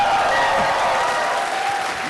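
An audience at a Rooster Teeth podcast panel at RTX 2014 bursts into loud, dense applause and cheering that fills the hall and fades slightly toward the end.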